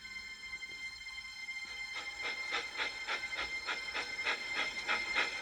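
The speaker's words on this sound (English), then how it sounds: "She huffed and puffed, but she had no steam left. Finally, Emily came to a complete stop" A steam engine train puffs to a stop, its rhythmic chuffs and hiss beginning after a quiet opening and repeating steadily at moderate loudness.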